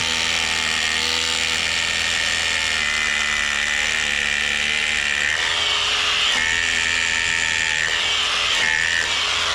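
Electric drill boring through material during sewer pipe installation work on a house build, a steady loud whine running continuously throughout with slight pitch shifts near the end.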